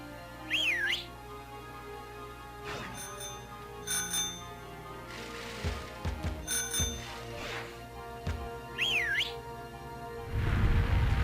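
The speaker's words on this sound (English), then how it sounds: "That is how you open this stupid temple! By whistling!" Two bright rising-and-falling whistle notes sound several seconds apart, the tune that opens a temple in the Pokémon Sword video game, amid soft game ambience with scattered thumps and a burst of noise at the end.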